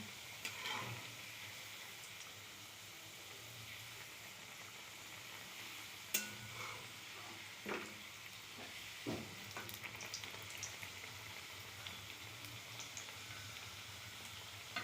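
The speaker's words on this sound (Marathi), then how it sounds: "खरपूस असं भाजून घेऊया पहिले एक साईड होऊन घ्यायची" Sambar vadi frying crisp in a pan with a steady low sizzle throughout, broken by occasional soft clicks and taps of a utensil against the pan.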